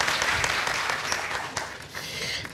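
Audience applause at a formal French-language ceremony as honorees are called up one by one, a dense sustained clapping from a crowd filling the whole stretch without pause.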